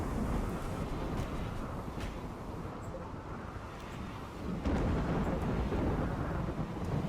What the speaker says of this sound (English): Getting a lot of flash storms in this location